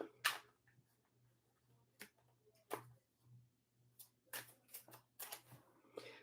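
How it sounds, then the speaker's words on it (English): Quiet, scattered papery riffles and taps of cards being shuffled up close, with a faint low hum underneath. "Little tougher to shuffle at first."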